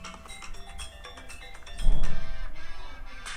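A Poco F3 phone plays audio through its speaker at maximum volume, a steady, fairly loud stream of music that swells in the second half.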